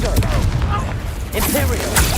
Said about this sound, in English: You're no match for me! Confringo!